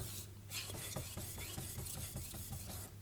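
Knife blade sharpened on an 8000 grit Kitayama whetstone, a steady rhythm of soft rasping strokes repeating about every third of a second, close and moderately quiet with no talk.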